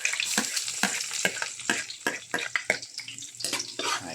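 Garlic frying in a pan for tochong bangus (milkfish), with a steady crackling sizzle broken by frequent sharp clinks of a utensil stirring against the pan, close and fairly loud, no talking.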